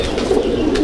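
Andhra racing pigeons in a loft coo close by, a brief, soft, throaty rolling sound lasting under a second, with no one talking.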